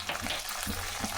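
Dried red chillies fry in hot oil in a pan over low heat, a dense continuous close sizzle with faint stirring scrapes.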